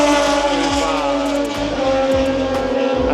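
MotoGP racing motorcycles at the Buriram circuit scream past with high-pitched engines, pitch dropping as each machine passes, a continuous loud roar over several seconds.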